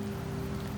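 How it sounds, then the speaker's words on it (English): Steady rain falls in Septimont within Wuthering Waves, a soft continuous hiss with a low hum beneath, constant and even throughout. "The rains in Septimont never seem eager to leave this season."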